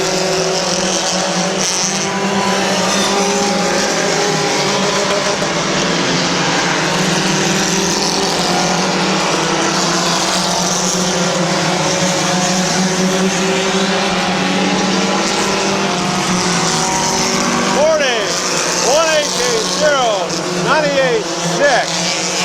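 Race cars lap an oval at Midvale Speedway in a steady, continuous engine roar, with a track announcer talking over the noise throughout.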